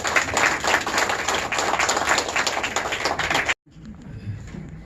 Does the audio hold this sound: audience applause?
yes